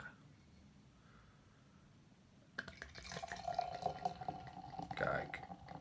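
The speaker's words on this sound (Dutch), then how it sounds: "Ik ga hem inschenken, kijken wat hij doet." Dark Paulus beer from De Leckere poured from a bottle into a glass, a steady liquid splash and gurgle that starts partway through after a quiet stretch and builds louder, close to the microphone.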